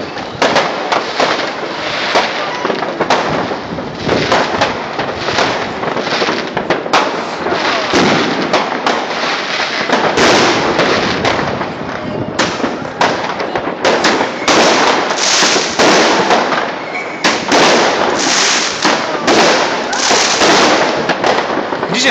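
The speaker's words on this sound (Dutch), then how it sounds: "Dat is duur vuurwerk hoor dan." New Year's Eve fireworks in Nijmegen burst continuously in dense, loud crackling volleys, with voices talking faintly beneath the barrage.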